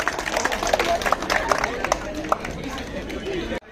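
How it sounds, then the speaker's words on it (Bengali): Scattered clapping from a crowd at a school prize-giving, fairly close and busy, mixed with children's chatter and voices, cutting off abruptly near the end. "কিরে হাততালি দাও, হাততালি দাও, হাততালি দাও।"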